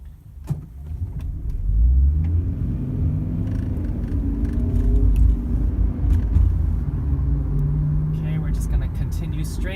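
A car drives along a street during a driving road test, its steady low engine and road rumble continuing throughout, with a person talking over it.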